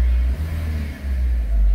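Audi A4 B6 1.8T quattro engine running after a restart following a low oil pressure concern, a steady close low rumble that dips briefly twice before settling back.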